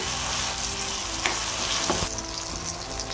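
Tomatoes and salt hit softened onions frying in a pan, a loud steady sizzle with a few stirring scrapes and clicks over the continuous hiss, no voices.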